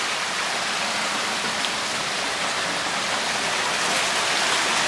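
Flowing water rushes steadily at the abandoned Shacklow Mill bone crusher in Ashford in the Water, a loud, unbroken broadband wash of the stream feeding the mill wheels with no voices.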